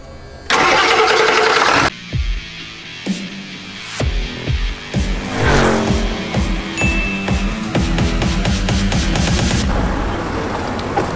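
A 1997 Ford F-350 engine cranks and fires, loud and close, with a steady rough running and repeated clanking knocks.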